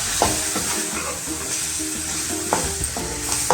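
Chicken curry ingredients with curry leaves sauté in a pan, giving a dense continuous sizzle broken by a few scraping stirs and clinks, with a low hum underneath.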